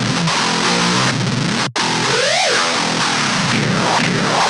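A modern metal guitar plays through an Auto Audio 1111 with the cabinet simulation off, giving a harsh, fizzy, buzzing distorted riff with a brief dropout and a rising, falling pitch-sweep effect, loud and unbroken.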